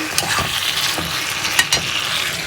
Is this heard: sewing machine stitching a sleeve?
no